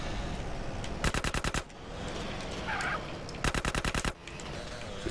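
Two short bursts of submachine-gun fire from a micro SMG in Grand Theft Auto: San Andreas, each a rapid string of about seven loud cracks, separated by a few seconds of game ambience.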